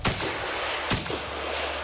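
Rifle fired on the set of a period Western drama, two sharp, loud reports about a second apart, each with a booming low tail and lingering outdoor echo, no voices.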